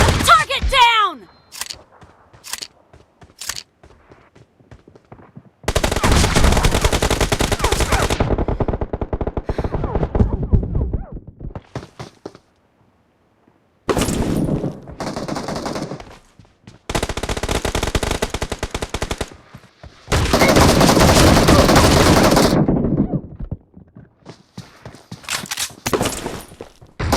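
Gunfire in PUBG Mobile Lite team deathmatch on the Ruins map, with M1014 shotgun blasts among loud, dense bursts of automatic fire and sharp single shots. The bursts alternate with brief quiet gaps and short game voice callouts.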